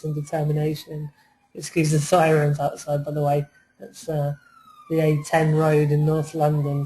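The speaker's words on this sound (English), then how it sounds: "Excuse the sirens outside, by the way." Sirens on the A10 road in North London, a faint rising and falling wail passing outside beneath continuous nearby talking.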